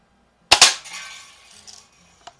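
A Daisy BB gun fires two quick, close shots that strike a metal can, each a sharp crack with a ringing tail, followed by faint rattles and one small late tap.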